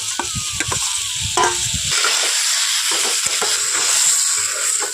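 Chunky sliced onions and pre-fried potatoes sizzle loudly in a hot pan while a utensil scrapes and stirs in a few sharp strokes early on, then the steady frying hiss carries on alone.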